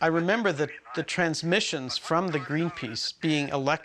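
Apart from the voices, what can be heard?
No everyday noise stands out behind the speech.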